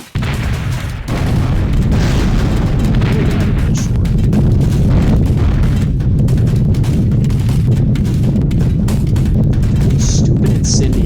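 Incendiary bombs exploding over factories in a World War II bomber flight game, a dense, continuous roar of rumbling booms and blasts with no break, loud and sustained throughout.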